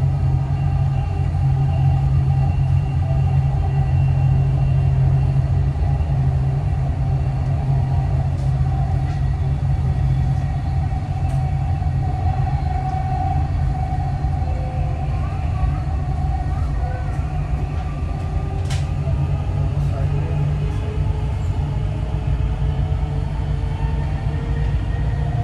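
A Dubai Metro train running toward UAE Exchange, a continuous loud low rumble and steady rolling hum with faint high whines throughout.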